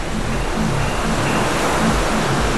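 Continuous roaring surf, a dense steady wash of large ocean waves on a very rocky beach, heard up close with no voices.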